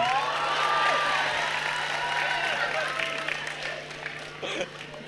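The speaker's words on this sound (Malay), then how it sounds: "Berilah tepukan." Audience applause and crowd noise at a university academic advisor and student welcome program, a sustained wash of clapping that thins toward the end, with voices talking over it.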